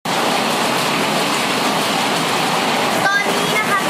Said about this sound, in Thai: ทั้งลมแรงฝนตกหนัก